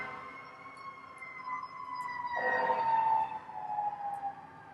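Emergency sirens wail outdoors in the background, a steady tonal drone that swells louder midway and then eases off, distant but clear.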